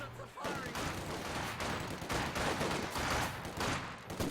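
A Maxim machine gun firing on a church in Company of Heroes 2, dense rattling bursts layered with other battle fire, loud and continuous under a commentator's voice.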